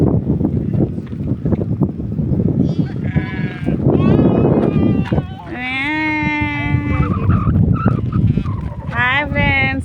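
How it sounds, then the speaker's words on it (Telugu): Sheep and small lambs bleating in a flock among goats, several drawn-out cries at varied pitches overlapping, with people talking close by and wind noise underneath. "మేకలు ఉన్నాయి, గొర్రెలు ఉన్నాయి"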